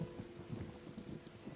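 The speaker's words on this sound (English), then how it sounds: "Man, this thunder's pretty intense, huh?" Thunder and rain from the video game Tales of Xillia 2, a low rumbling roll over steady rainfall, fairly faint and continuous through the short stretch with no talking.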